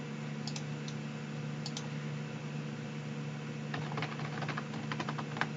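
Rapid key clicks from a computer keyboard over a steady low hum, sparse at first then a denser burst of typing toward the end.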